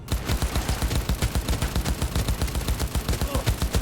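Rapid bursts of automatic gunfire from a shooter game set in Cyberpunk 2077's futuristic city, loud and close, with the shots repeating in a steady, unbroken rhythm throughout.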